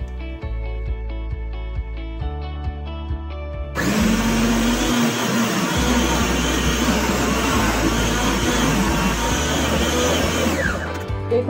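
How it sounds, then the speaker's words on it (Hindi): A food processor grates radish in a loud, steady whirring grind that starts abruptly partway through and runs on continuously, preceded by soft rhythmic background music. "फूड प्रोसेसर की सहायता से जल्दी से अपनी मूली को कद्दूकस कर लेंगे"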